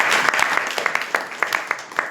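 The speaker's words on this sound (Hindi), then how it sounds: "आप लोग के लिए स्पेशल ताली बजेगी" Audience at a spiritual class at an ISKCON centre clapping in rhythm, a run of sharp, fairly even hand claps from a group, moderately loud and close, with faint voices underneath.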